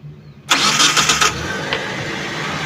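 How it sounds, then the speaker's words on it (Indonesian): A 2014 Mitsubishi T120ss pickup engine cranks briefly with the starter, then catches and settles into a steady, smooth idle, heard close up with no talk. "Sekarang kita tinggal starter, kita dengerin suaranya"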